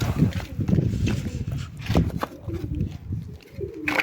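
Turtle doves coo at an outdoor chicken coop, soft low cooing repeating a few times over rustling and background voices.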